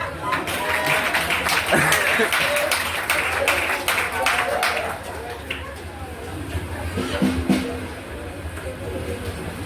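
A conference audience bursts into applause acclaiming Jesus, dense clapping loudest early on and thinning toward the end, mixed with voices and chatter.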